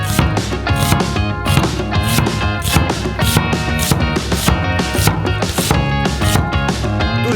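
A knife chops an onion on a cutting board in rapid, steady strokes, crisp and close, heard over backing music with no talk.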